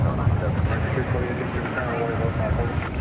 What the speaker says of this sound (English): The aircraft now getting ready to blast off is flight 2597. It's a 737-800.